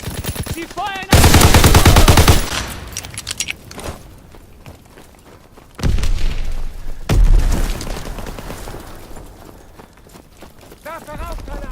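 Machine gun fire in a Call of Duty match on PS4 Pro, with loud close bursts near the start and around the middle, plus scattered shots and shouted voices in between.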